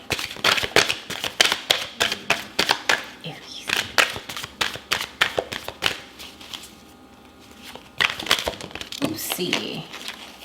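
Oracle cards being shuffled and drawn for an Aries reading, a rapid run of crisp papery riffles and snaps, close and fairly loud, pausing briefly near the middle before a final burst of card handling.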